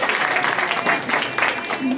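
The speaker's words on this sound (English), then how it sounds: "Let's give her a round of applause to wish her all the best of luck." Audience at an arts celebration applauding for a Miss Chinatown USA contestant, a sustained crowd clapping with voices mixed in.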